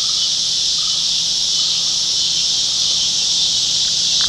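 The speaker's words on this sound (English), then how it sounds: "You can hear the cicadas." Loud, continuous cicada buzzing drones steadily throughout, a dense high-pitched chorus with no pauses, outdoors at an RV spot.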